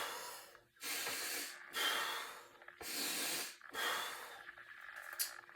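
Deep breathing shown as a demonstration: four long, loud, hissing breaths in steady succession, each lasting about a second, close to the mic with no talking between them.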